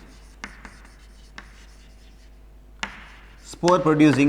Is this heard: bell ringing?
no